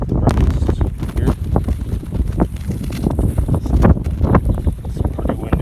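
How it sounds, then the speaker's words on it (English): Strong gusts of wind buffet the microphone with a continuous low roar and rumble, loud and close throughout. "It's pretty windy this morning."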